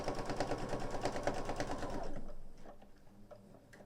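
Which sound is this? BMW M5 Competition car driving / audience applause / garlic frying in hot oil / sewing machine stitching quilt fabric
sewing machine stitching quilt fabric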